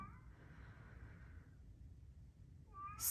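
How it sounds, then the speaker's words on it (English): A cat meows once, drawn-out and fairly faint, with a short second call starting at the end in an otherwise quiet room. "I don't know if you can hear my cat"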